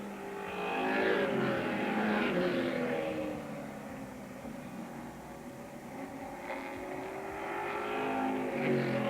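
Late model race cars roar around Radical Ridge Bowl during a nighttime late model B feature, engines droning and swelling as the pack passes, a continuous loud field of revving motors.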